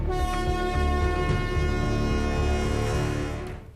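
A train sounds a loud, sustained horn while running on the reopened DC rail line near Dhanbad, Jharkhand, with the rumble of rolling wagons beneath. The blast holds steady for several seconds before tailing off.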